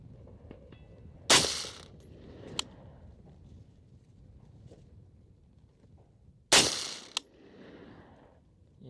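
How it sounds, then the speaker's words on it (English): Two sharp, loud rifle shots from a Colt CAR-A3 HBAR Elite fired at a 100-yard range, about five seconds apart, each with a brief echo and quiet outdoor background between. "I'm gonna shoot this at 100 yards."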